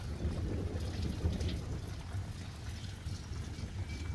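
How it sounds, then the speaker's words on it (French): Heavy rain falls outside an open window during a summer 2022 thunderstorm after a drought, a dense, steady wash of noise that carries on unbroken and fills the whole moment with no talk. "j'ai ouvert la fenêtre comme ça pour bien entendre la pluie"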